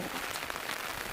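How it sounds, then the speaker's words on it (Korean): Steady rain patters down during a train trip in Grindelwald, Switzerland, a soft, even hiss of drops with no pauses across the brief moment. "비가 오다니."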